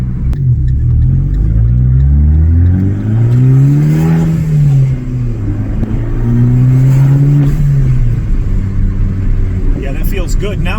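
A Fiat 500 Abarth is driven with its engine running throughout. A loud, steady droning hum rises and falls in pitch as the car accelerates and eases off over about eleven seconds, close and continuous.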